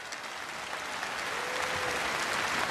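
Concert audience applauding at the start of a jubilee evening of Georgian songs at the New Wave 2019 festival, dense steady clapping that swells slightly and continues without a break, with no speech.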